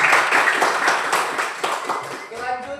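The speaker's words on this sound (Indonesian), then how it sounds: "Tepuk tangan" Classroom clapping from pupils in an Indonesian lesson, a brief burst of many hands clapping close by, uneven and fading, with voices talking over it.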